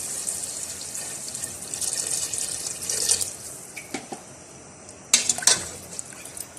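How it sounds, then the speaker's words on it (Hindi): Water pours from glasses into a pot of cooking mutton, a steady splashing stream in a kitchen followed by a few sharp metallic clinks of the vessel. "इसको गलाने के लिए इसके अंदर 2 से 3 गिलास पानी डाल देंगे"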